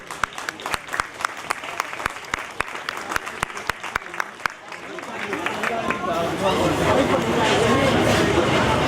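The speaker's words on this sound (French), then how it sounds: "et on peut l'applaudir" An audience at a Bugatti awards ceremony in Molsheim applauds: sharp separate claps at first, swelling into loud sustained applause with cheering crowd noise toward the end.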